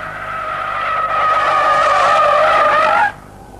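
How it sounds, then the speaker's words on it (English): Car tires squeal loudly and steadily as the car slides in lift-off oversteer on a test circle at nearly 40 mph near the limit of grip. The skid holds for about three seconds, then cuts off abruptly. "this is called lift-off oversteer"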